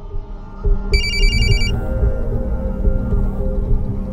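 A telephone rings in short, bright repeated bursts for under a second over a constant low background hum, with no one speaking.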